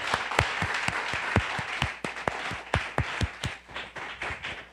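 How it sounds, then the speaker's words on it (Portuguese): A church congregation claps during a worship service, with sharp individual hand claps standing out over a continuous wash of applause that keeps going throughout, fairly close and loud. "Por isso, vamos tributar aplausos a ele."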